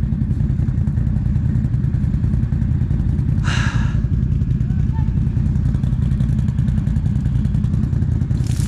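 A motorcycle grinds over rough ground among trees with a constant low engine drone and rattling clatter, while a voice briefly speaks over it.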